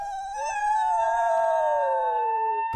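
Wild dogs in an indie video game let out a long, loud, sustained howl whose pitch slowly falls and then cuts off abruptly, with no talking.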